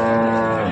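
A six-toothed cow at a busy morning livestock market in Sangola gives a short, loud, close moo that fills the whole moment.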